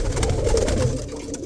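Roller pigeons in a loft give a soft, continuous low cooing murmur, steady and close throughout with no talking.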